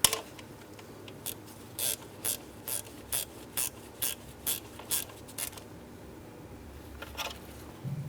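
A ratchet wrench with an 18mm socket loosens hardware on the ignition coil area of a 2003-2007 Cadillac CTS 3.6L V6, giving about a dozen evenly spaced close clicking bursts, then a pause and one last click, with no talk.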